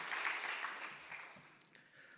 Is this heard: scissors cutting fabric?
no